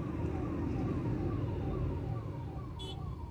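An ambulance siren wails in a traffic jam, its falling tone repeating steadily over a dense, constant rumble of engines and road noise, with a brief high squeal near the end.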